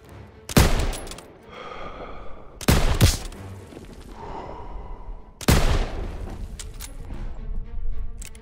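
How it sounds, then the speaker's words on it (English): Heavy gunfire in the video game Call of Duty WW2 battle, with three loud booming blasts spaced a few seconds apart amid scattered machine gun bursts and rumbling echoes. "MG's open fire! Keep them off that bridge!"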